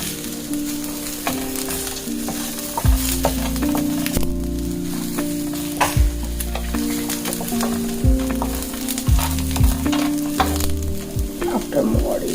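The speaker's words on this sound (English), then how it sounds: "We add the mangodi, let it roast for some time." Mangodi lentil dumplings roast in a pan over a low gas flame, a steady close sizzle and crackle running throughout, with repeated low knocks and scrapes of a spatula stirring and faint tonal hum underneath, no voices.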